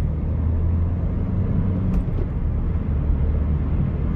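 A Seat Leon accelerating from a dual carriageway onto the motorway, heard from inside as a steady, fairly loud low engine and road rumble that holds level throughout, with no talk.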